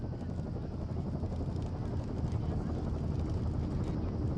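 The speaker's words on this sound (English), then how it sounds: "There's the helicopter." A helicopter arrives in the game Firewatch, a steady low rotor thrum holding at moderate distance throughout, fairly quiet and even.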